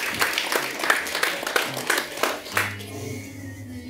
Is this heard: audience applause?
yes